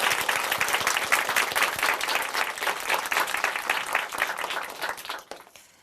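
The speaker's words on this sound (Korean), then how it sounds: "다시 한번 우리 자매님께 뜨거운 박수 보내드릴까요?" Warm audience applause for a woman who has just given her testimony at a Christian television broadcast, many hands clapping steadily and loudly for several seconds before fading out at the end.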